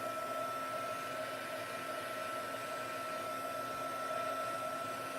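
A Stampin' Up heat tool running on high heat to dry watercolor on a card, a steady close whirring blow with a faint whine, unbroken throughout.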